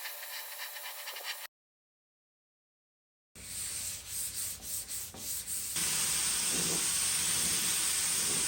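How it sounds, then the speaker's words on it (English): Scuff sanding by hand between coats of paint thinned with Floetrol on a built-in desk and bookcase, a steady dry rubbing hiss close by, broken by a short silence. "I always like to scuff sand in between my coats to make sure that it's really smooth"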